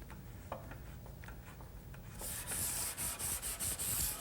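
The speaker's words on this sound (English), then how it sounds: "Now some final sanding with some 220 grit sandpaper" Sandpaper of 220 grit rubs mahogany by hand, first in quiet scattered scuffs, then in fast, loud, even back-and-forth strokes heard up close.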